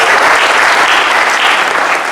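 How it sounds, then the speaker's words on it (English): Loud, dense applause from a large crowd at a medical device industry event, clapping steadily and filling the whole moment. "If you could, a big round of applause for that."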